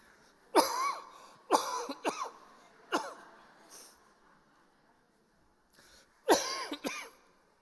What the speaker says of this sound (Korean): 기침을 3번만 하겠습니다.